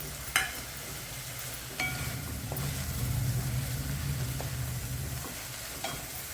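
Onion and tomato fry with salt, red chilli powder and garam masala, giving a continuous sizzle under a low rumble, with a few clicks of a spoon stirring in the pan and no speech.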